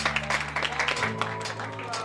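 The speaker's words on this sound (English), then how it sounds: "let's give him that big hand of applause as he comes to the podium" Brief scattered applause from an audience at a Youth Games torch ceremony in the Karas region as a speaker comes to the podium, light clapping mixed with voices and a steady low hum.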